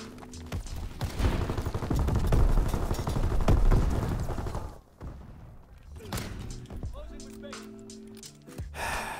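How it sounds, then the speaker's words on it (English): Gunfire in a WWII shooter game, a dense and sustained rattle of shots and thuds that fades after about five seconds into scattered quieter noises, with a player voice partly over it. "People really don't stop shooting on this game."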